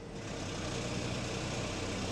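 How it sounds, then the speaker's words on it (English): A Kia Optima engine idling at low revs with a faint, steady rattle and some exhaust noise, a continuous dull mechanical rumble heard close up. "at low revs there's a bit of a rattle there"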